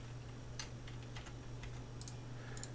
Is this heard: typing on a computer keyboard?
yes